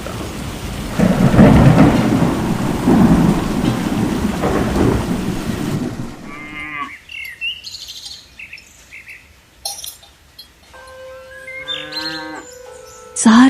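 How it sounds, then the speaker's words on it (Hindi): A thunderstorm with heavy rain and deep rumbling thunder fills the first six seconds loudly, then cuts to a quieter scene with scattered bird chirps and cattle-like lowing. "सारी रात तूफान,"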